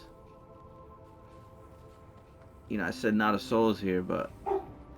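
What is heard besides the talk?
dog barking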